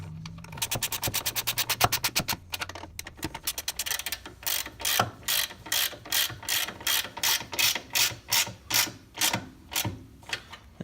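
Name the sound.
10mm ratchet tightening nylock nuts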